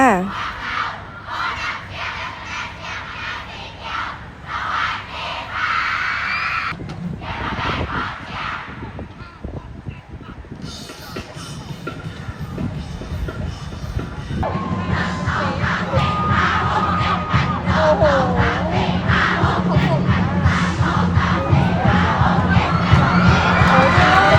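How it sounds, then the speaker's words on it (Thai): Cheer squads for each school colour team at a school sports day in Amnat Charoen, loud crowd chanting and shouting continuously with a sharp change partway through and a fuller, denser roar in the second half. "เก็บภาพบรรยากาศของกองเชียร์แต่ละคณะสีมาฝากกันนะคะ"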